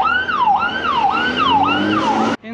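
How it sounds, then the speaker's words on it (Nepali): Ambulance siren on a Jerusalem street, a loud, close wailing tone that sweeps smoothly up and down in repeating cycles of about half a second, continuous over the traffic until it cuts off abruptly near the end. "देशी एम्बुलेन्स हो ल यहाँको।"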